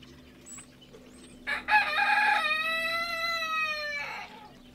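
A farm rooster named Mozart crows once, a loud, clear, drawn-out call rising out of quiet barnyard background and holding for about three seconds before trailing off.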